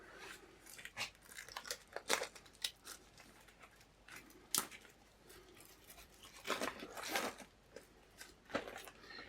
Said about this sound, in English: I'm opening the bag.